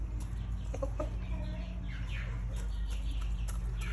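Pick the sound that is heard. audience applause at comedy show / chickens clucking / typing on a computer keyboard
chickens clucking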